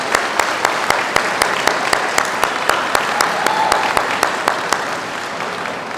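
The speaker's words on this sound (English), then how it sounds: "I do want to give a big round of applause to Lori Paul and the entire ELPS food servic" Audience applause at a school district staff convocation, a few sharp individual claps at first quickly swelling into steady, dense clapping from a sizable crowd that continues throughout.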